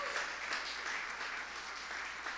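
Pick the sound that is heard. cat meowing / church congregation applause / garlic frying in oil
church congregation applause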